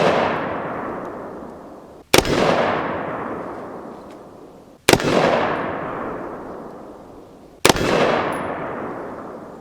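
A Leviathan Ragnarok 4.5-inch AR pistol firing 5.56 rounds over a chronograph outdoors: three loud, sharp, evenly spaced shots, each followed by a long rolling echo that fades before the next.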